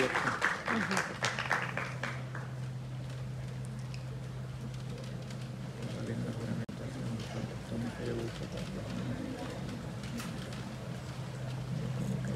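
An audience at a nursing capping ceremony claps steadily, the scattered, crackling applause running the whole time under a constant hum, with a voice speaking briefly at the start.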